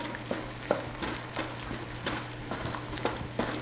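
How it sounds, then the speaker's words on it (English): A wine and apple cider reduction simmers and sizzles in a pan with rhythmic stirring scrapes at a steady pace, close up, over a low steady hum, with no voices. "Allow just a moment to blend everything together and for the wine and the cider to cook off just a little bit."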